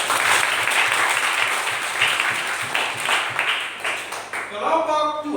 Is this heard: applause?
yes